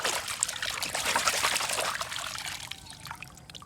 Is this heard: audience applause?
no